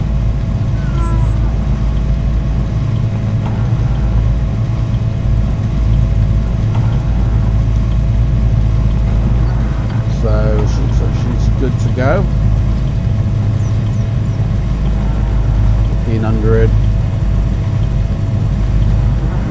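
Twin-engine Aero Commander in a flight simulator, idling steadily after start with a constant low drone, while voices talk over it intermittently.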